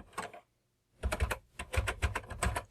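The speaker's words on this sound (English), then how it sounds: "This is nicer to type on than an emulator" Typing on the full-size keyboard of TheC64 Maxi, a Commodore 64 replica, while entering a BASIC one-liner: a short burst of keystrokes, a pause, then steady, close, clattering key presses in quick succession.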